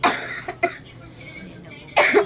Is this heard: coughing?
yes